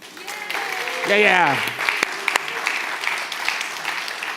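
Applause rises briefly from an audience at a cryptocurrency summit, a short burst of clapping mixed with voices and cheering, then settling as a speaker on a microphone continues talking.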